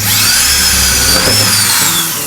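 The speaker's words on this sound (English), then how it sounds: "I like to drill a little hole in my lid" A power drill whirs loudly and continuously up close, boring a small hole through a plastic bucket lid, then winds down at the end.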